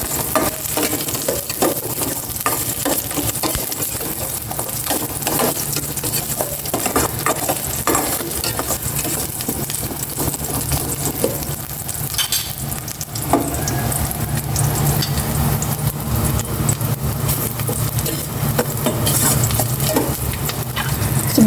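Garlic sizzling and frying in a pan while being stirred for chicken tinola, continuous crackling sizzle with frequent scraping and utensil strokes, close and loud, no talk.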